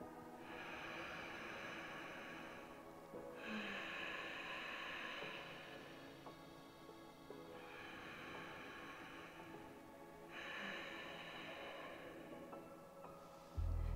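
Victory breath through a closed mouth: slow, audible throaty breathing in long inhale and exhale cycles, steady and close, with no talking.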